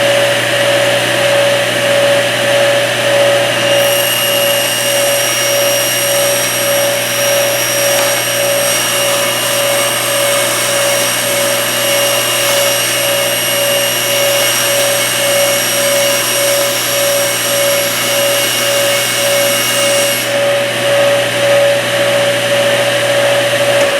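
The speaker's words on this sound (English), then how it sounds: "plexiglass will cut just fine on a table saw with a combination blade" Table saw fitted with a combination blade cutting plexiglass at a slow feed, a steady loud motor whine with a constant pitched tone running the whole time and a slightly harsher cutting texture in the middle.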